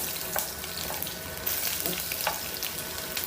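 Garlic fries in hot cooking oil in a pan for adobo, giving a steady crackling sizzle with occasional sharper pops and stirring scrapes, close up. A voice gives a brief exclamation.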